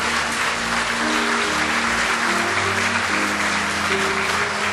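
A church congregation applauds during an anniversary and retirement service for a pastor, continuous even clapping filling the room while steady organ-like tones hold underneath.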